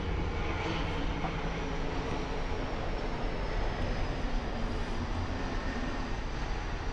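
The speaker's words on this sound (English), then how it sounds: "That's the airplanes going over." Airplanes pass overhead near an airport, heard from a porch as a loud, continuous broadband engine roar that holds steady throughout, with no talking.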